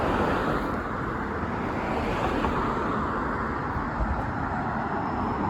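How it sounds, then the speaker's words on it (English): A train passes near Bloor Street West in Etobicoke, Toronto, heard as a steady, distant rumble blended with street traffic and outdoor wash, with no one speaking. "I hear a train."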